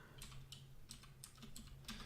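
Quiet clicks of keys on a computer keyboard, a handful of separate taps spaced unevenly over about two seconds, with no voices.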